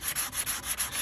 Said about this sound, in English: I'm just lightly sanding it down.